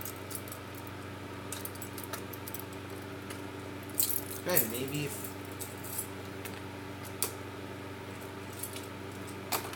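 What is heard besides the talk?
keys jangling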